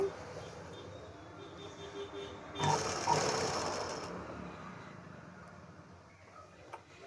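A sewing machine stitching thread work onto blouse fabric cut from a fancy saree, a faint mechanical run that swells into a brief, louder whirring burst of stitching and then fades back to quiet.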